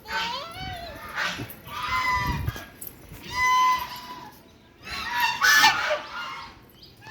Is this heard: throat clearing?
no